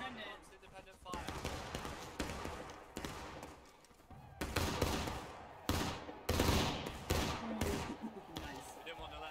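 Musket volleys and scattered independent fire in the War of Rights video game, a Civil War battle event, cracking in irregular bursts, some loud and close, others farther off, with voices shouting commands over the gunfire.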